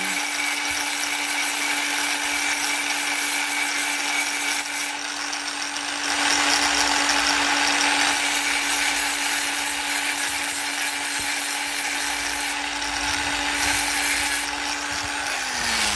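Angle grinder deburring the end of a steering tie rod on a Peugeot 404, a steady loud whine with a constant tone holding for the whole stretch, close and continuous, winding down at the end.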